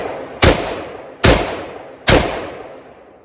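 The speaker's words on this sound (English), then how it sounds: "Get some shots fired down range and see how she holds." Three loud, sharp gunshots fired down range at an even pace from a firearm carrying a Cyelee T10 red dot sight during a torture test, each crack trailing off into a short outdoor echo before the next.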